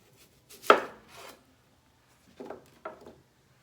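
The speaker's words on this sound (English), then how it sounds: "I cut the onion in half, and I'm just going to go lengthwise and hold the onion together as best as I can." A knife slices down through a halved onion on a cutting board, giving a crisp, close cut followed by a softer drag, then two shorter, quieter cuts after a pause.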